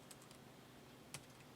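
Quiet, close typing on a computer keyboard, a sparse run of light key clicks with one slightly sharper keystroke near the end, over faint room hiss and no talking.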